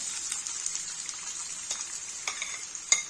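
Onion frying in oil in a pan gives a soft, continuous sizzle with scattered crackles and one sharper pop near the end.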